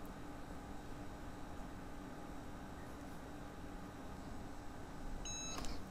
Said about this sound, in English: that beep means it's done